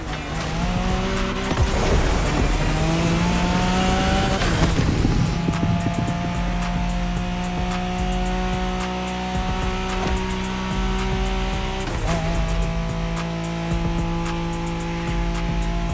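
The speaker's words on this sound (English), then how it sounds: "Wide drift for style or tight drift for speed." A car drifts in The Crew Motorfest, with a loud, steady engine drone and a sustained tire squeal. The engine note shifts as the car shifts gears around 5 and 12 seconds, and there is no talk.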